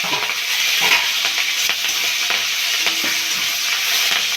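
Ginger, garlic and green chillies fry in hot oil with cumin and dried red chillies, making a loud continuous sizzle with scattered scraping taps of a stirring utensil against the pan.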